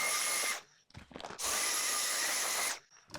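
Electric power trimmer shearing the pile of a hand-tufted rug, two sustained whining bursts with a short pause of handling and rustling between them, close and loud.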